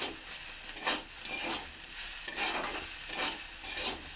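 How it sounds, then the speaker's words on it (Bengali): Potatoes and yardlong beans fry with spices in a pan, a steady close sizzle broken by rhythmic scraping stir strokes roughly every second, with no talking. "সমস্ত একসঙ্গে ভাজা ভাজা মতো করে নিই আলু বরবটি প্রায় এখন ভাজা ভাজা হয়ে গেছে"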